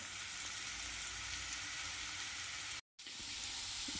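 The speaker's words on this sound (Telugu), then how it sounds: "3 ఆనియన్స్, 2 పచ్చిమిరపకాయలు ఇలా రెడ్ కలర్ వచ్చేదాకా మనం ఫ్రై చేసుకోవాలి ఆయిల్లో." Three onions and two green chillies fry in two tablespoons of oil, a low, steady sizzling hiss that drops out briefly near the end before resuming.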